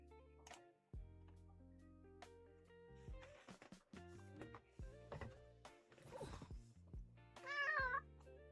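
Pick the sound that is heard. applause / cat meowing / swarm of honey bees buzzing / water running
cat meowing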